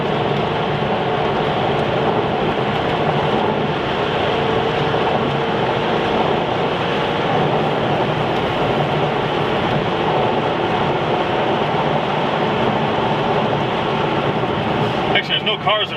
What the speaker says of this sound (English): we're going to give you a test drive in this Maserati here